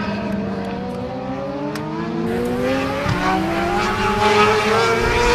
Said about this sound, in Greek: φοβερή μάχη με 4 μοτοσυκλέτες για τη δεύτερη θέση